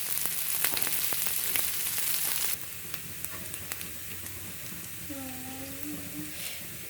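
Dried ribbonfish and onion frying together in hot oil give a steady hiss that drops to a softer sizzle partway through, with small clinks of utensils and a faint voice in the background.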